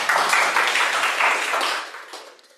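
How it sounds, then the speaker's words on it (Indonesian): A workshop audience at a mathematics refresher session claps for a participant: a dense, steady patter of many hands at close range that thins and fades toward the end. "Boleh tepuk tangan dong buat Bu Sulastri."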